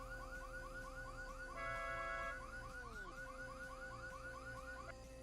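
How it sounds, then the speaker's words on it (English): A car alarm blares in a video game as a vehicle is lockpicked, a quiet, repeating warbling siren cycle running throughout with a brief steady tone partway and a sweeping fall near the middle. "Because this car has a car alarm on it, it will set the alarm off as you're trying to lockpick it"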